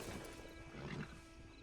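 A horse in Red Dead Online whinnies with a short, throaty neigh close by, over a soft hum of background ambience.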